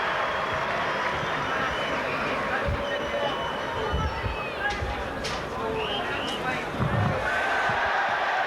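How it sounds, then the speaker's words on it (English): Rugby league crowd at a Warrington v Leeds match, a dense stadium roar with scattered shouts and whistles swelling in waves, heard under a commentator's voice. "you can hear what the crowd think of that"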